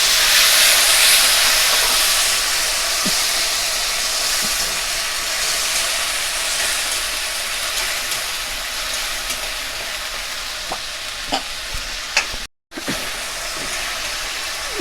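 Water poured into a hot pan holding ginger and green chili paste for a soybean dish sends up a loud, steady broadband hiss and sizzle that holds throughout, with a brief break near the end and no talking.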